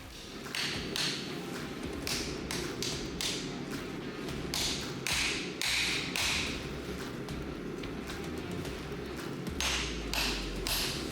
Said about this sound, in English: And just a few finishing taps with a hammer to square it all up